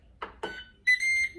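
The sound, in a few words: air fryer beeping as it is set to preheat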